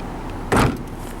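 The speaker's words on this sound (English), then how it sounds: "Trunk sounds very solid upon closing" A 2012 Volkswagen Passat SE trunk lid slams shut once, a single solid, deep thud that rings out briefly and then fades into quiet background.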